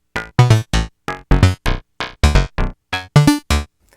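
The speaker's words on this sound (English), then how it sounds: "I punched in some gates that are firing off to the Make Noise Renee, which is sending pitched information to the Erica Synths Black Wavetable VCO." An Erica Synths Black Wavetable VCO sequenced by a Make Noise Rene fires a rapid run of about fifteen short, pitched, buzzy notes in a staccato rhythm, loud and clean with no voice over it.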